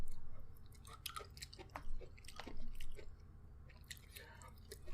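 Someone eating cucumber from Korean convenience store food, close, moist crunching and smacking chews in an uneven rhythm, fairly quiet and intimate.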